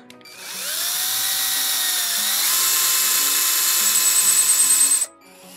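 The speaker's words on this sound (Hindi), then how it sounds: "अब हमें फ्रेटबोर्ड पे भी एक होल करना होगा सेम साइज का।" Power drill boring a hole through a guitar fretboard, a sustained high whirring motor whine that rises in pitch once, then grinds steadily and close before cutting off abruptly near the end.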